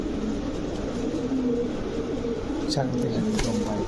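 Fancy pigeons, including Lahori, Danish and Brahma breeds, cooing at a pigeon sale: low soft coos run under steady background noise of the crowded market, with voices and a few sharper sounds nearby.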